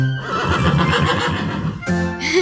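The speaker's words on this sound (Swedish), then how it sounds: "Varför i all världen har du en häst på verandan?" A horse standing on a house veranda gives a loud, close whinny that lasts about two seconds. After a brief pause, a short second neigh follows.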